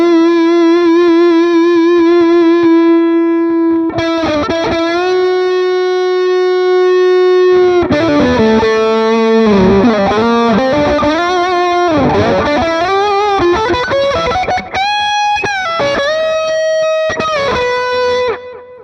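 Loud distorted electric guitar through a Mesa Boogie amp simulation in AmpliTube 5, solo channel, playing a solo of sustained bent notes and fast runs, with reverb, heard alone throughout.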